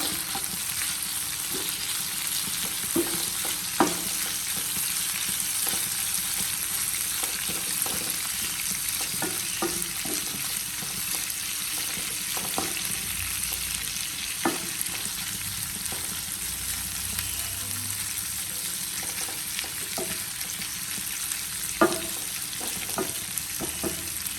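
Prawns frying in a pan while being stirred, a steady sizzle with intermittent scraping clicks from the utensil against the pan, close and continuous for the whole stretch with no talking.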